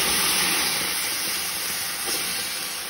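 Spicy chilaquiles salsa poured into a pan of hot oil with tortillas hisses in a loud, continuous broadband sizzle, close and steady throughout without speech.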